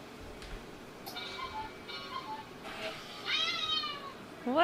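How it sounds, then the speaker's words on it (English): Cuckoo cat clock giving a few short, faint, synthetic meow-like chirps and a final rising call, spaced irregularly over a quiet room background. "That's my cuckoo cat clock."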